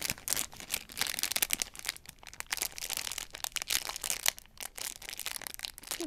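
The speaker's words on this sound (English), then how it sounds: "let's just open these up and see which ponies we have got" A blind bag toy package of My Little Pony figures is torn and crinkled open, with continuous close, loud plastic rustling, crackling and tearing and no speech over it.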